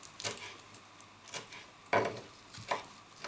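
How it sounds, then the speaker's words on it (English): A knife chopping cilantro and parsley on a board for guacamole: four or five distinct, faint, evenly spaced thuds in a quiet kitchen, with no talking. "I love chopping herbs."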